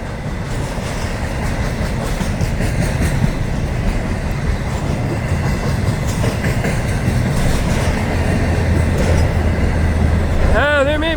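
A Florida East Coast freight train rolls past loaded with UPS trailers, a steady loud rumble and clatter of railcars filling the whole stretch, with a brief squeal of wheels near the end.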